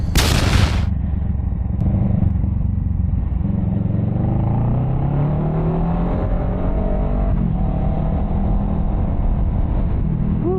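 A Z650 motorcycle exhaust runs loud and close, with a sharp burst at the start, then a steady, throbbing engine drone whose pitch rises and falls gently as it revs, and no voices.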